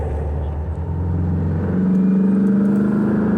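A car engine running lean pulls under acceleration, a steady droning hum that rises in pitch and loudness partway through, heard from inside the car.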